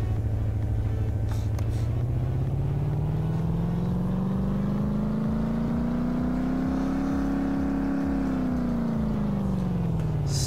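Modified Dodge Hellcat on race tires revving on a dynamometer in Car Mechanic Simulator, a steady loud engine drone whose pitch climbs smoothly for about eight seconds and then starts to fall as the run ends.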